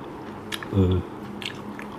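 A crispy fried banana fritter made with margarine and rice flour is bitten once, a short crunchy snap up close, followed by faint chewing.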